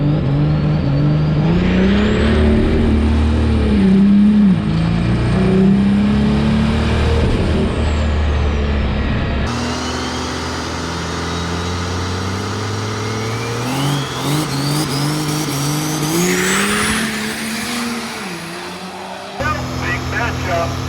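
Drag race cars launching off the line at a street drag racing event, loud engine roar and revving sustained throughout, with shifting pitch as the cars accelerate and an announcer-like voice talking over it.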